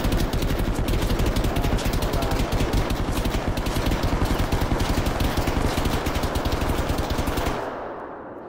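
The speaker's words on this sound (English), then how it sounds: "Start shooting above now." Sustained automatic gunfire in the military shooter Arma 3, a loud, rapid, continuous stream of shots lasting several seconds before cutting off abruptly, with no talk.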